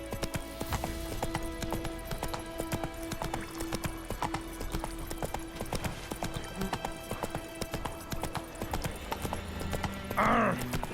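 Roach, a horse in The Witcher 3, gallops with steady, rapid hoofbeats that continue throughout, mixed with game sound, and a brief whinny near the end.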